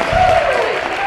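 An audience at an open mic stand-up comedy show claps, a brief, dense patter of applause filling the room at close range.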